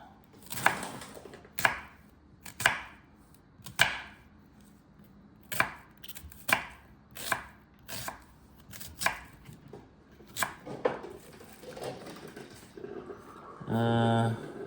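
A knife chops onions on a cutting board in a home kitchen while fried rice is being prepped: a steady series of sharp, well-spaced chops, close and clear, with a short spoken remark at the very end.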